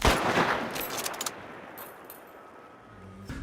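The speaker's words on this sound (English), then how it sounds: "you fire a gunshot, the sound of the shot kind of echoes back at you" A burst of rapid gunfire in the video game Hunt: Showdown opens loudly, then fades into a ringing slapback echo off nearby walls, with a few faint later reports.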